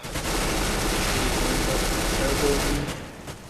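Rapid automatic gunfire from a Counter-Strike: Global Offensive match crackles loud and continuous for about three seconds, then trails off.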